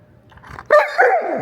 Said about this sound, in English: Bark if it's a good idea.